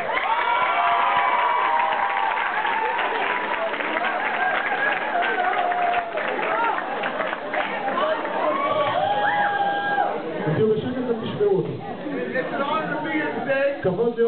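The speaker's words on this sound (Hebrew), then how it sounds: "קבלו אותו במחיאות כפיים" A school audience in Jerusalem applauds and cheers to welcome a guest speaker, a loud, sustained wash of clapping and shouts with crowd voices mixed in, gradually thinning toward the end.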